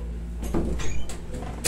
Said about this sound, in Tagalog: Buksan mo yung pinto, par.